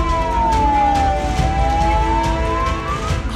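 An ambulance stuck in a traffic jam during the Bol Bom pilgrimage in Dumduma wails with a loud, continuous siren that slowly falls and rises in pitch, close by and steady over traffic rumble.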